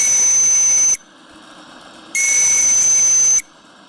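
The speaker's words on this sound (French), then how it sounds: "c'est pas un sifflet du commerce, c'est un sifflet fait maison" A shrill homemade steam whistle on a live-steam model engine blows twice, each blast about a second long and loud, with a steady hiss of steam lingering between the blasts.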